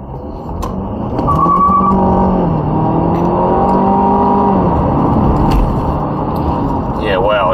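A 2022 Ford Escape ST-Line in sport and manual mode accelerates hard, its engine note climbing through gears with a brief dip at a shift, loud and close inside the cabin, with a voice speaking over it.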